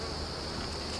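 Honey bees buzzing steadily at an open hive during a varroa treatment and swarm check, a continuous close hum alone with no talk.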